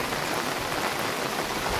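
Heavy rain pours down in a village, a dense, continuous hiss of drops striking the ground, close and loud with no voices.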